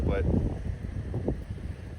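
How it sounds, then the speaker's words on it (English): Wind blowing outdoors by a river during plein air painting, a steady low rumble of buffeting gusts on the microphone while someone talks over it. "I seem to not be able to escape the wind. It is still windy."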